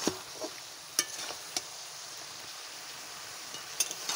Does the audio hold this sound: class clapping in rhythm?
no